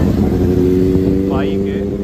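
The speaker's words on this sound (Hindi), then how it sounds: "गाड़ी आ रही है जिसकी आवाज़ बड़ी सैड आ रही" A BMW motorbike passes on Casino Road in Panaji, its steady engine drone sitting close beneath someone talking over it.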